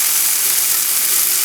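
Chicken, or turkey, fries in a pan with a balsamic white wine glaze. It makes a loud, steady, close sizzle that hisses without a break and has no voices over it.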